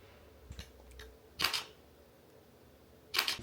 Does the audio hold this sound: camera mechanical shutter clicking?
yes